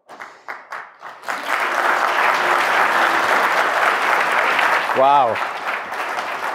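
A lecture-hall audience applauds Stephen Wolfram with a few scattered claps first, then steady, full, sustained clapping from the crowd, while a voice briefly exclaims over it near the end.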